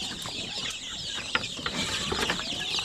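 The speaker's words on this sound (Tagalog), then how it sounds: "Dito sa kabila, marami akong sisiw dito." Many chicks peep in a coop, a busy overlapping chorus of high chirps close by with a few sharper clicks, no speech.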